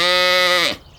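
One sheep gives a short, loud, buzzy bleat lasting under a second, close by, ending abruptly with a falling tail.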